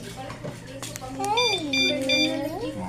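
A wireless motorcycle alarm, fitted in the under-seat storage box, sounds a loud, close siren with rising and falling warbles and short beeps that repeat in quick succession.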